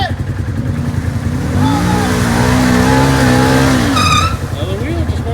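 Vehicle engine on a trail, revving up and holding a strained high pitch while trying to spin a tire, then dropping back, with people talking over it.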